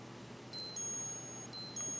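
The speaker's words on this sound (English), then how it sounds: "The C pusher sets the alarm, which is working." A restored Seiko 7T32-7F80 quartz chronograph watch sounds its alarm, a thin, high-pitched electronic beeping that starts after a brief pause, runs in sustained bursts with a short gap, and is clear and fairly loud.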